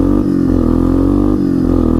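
An ATV engine revs hard and close in first gear, a loud, steady, throaty drone with slight rises and falls in pitch across the whole stretch.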